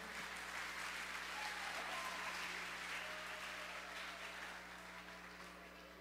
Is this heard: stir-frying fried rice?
no